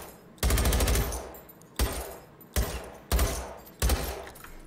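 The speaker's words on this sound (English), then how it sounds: "The noise that it makes as it hits the target, the little sort of like twang." Experimental assault rifle ammunition in Generation Zero fired at a target, five loud, separate shots at uneven intervals, each a sharp crack with a ringing tail as the round strikes.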